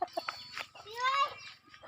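Chickens and young chicks on a rural Filipino farm give short clucks and peeps, then one sustained rising call, all fairly close and moderately loud with quiet gaps between the sounds.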